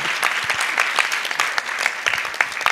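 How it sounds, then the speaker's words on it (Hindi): A crowd at a Jain religious gathering claps steadily and continuously, dense applause filling the whole stretch at close range. "तालियां"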